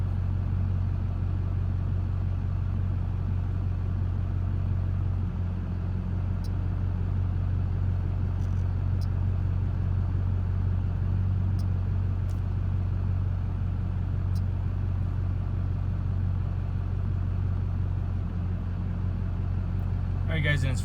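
A truck engine idles steadily with a low, constant rumble throughout, unchanging and close by.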